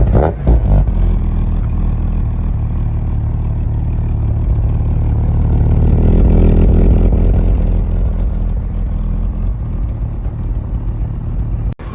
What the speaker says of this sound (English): we'll give you guys a baseline cold start for the first sound